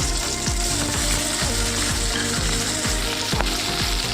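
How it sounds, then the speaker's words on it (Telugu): Green chillies, tomato and onion fry in oil in a pan for sesame chutney, giving a steady, loud sizzle with bursts of crackle throughout and no voices. "ఇప్పుడు నేను చట్నీ కావాల్సిన పచ్చిమిర్చి టమాటో ఆనియన్ వేయిస్తున్నాను"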